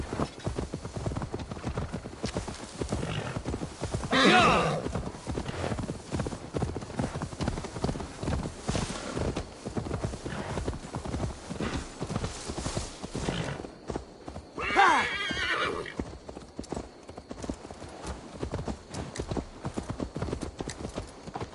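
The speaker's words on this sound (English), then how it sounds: "Now to deliver Magni his horse" Horse hooves clip-clop steadily throughout in the video game Assassin's Creed Valhalla, with two loud neighs standing out, the first early on and the second near the end, all without speech.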